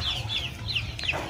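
Chickens cluck softly on a poultry farm, several short repeated calls from a few birds at close to moderate distance over a low steady background hum.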